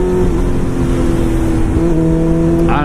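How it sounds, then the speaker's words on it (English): A Ford car's engine drones loudly and steadily as it speeds up, a close, continuous hum with no talk. "now the Ford's speeding up"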